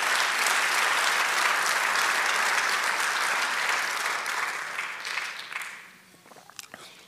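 Church congregation applauding during a Spanish-language sermon: dense, sustained clapping that holds steady for several seconds, then thins out and fades to a few scattered claps.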